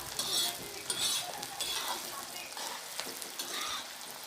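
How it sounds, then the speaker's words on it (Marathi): Bombay duck (bombil) fish frying and roasting to a red crust on a black iron tava, with a steady, close crackling sizzle and faint stirring or turning noises throughout, no voices. "तर छान लाल असं भाजून घ्यायचं."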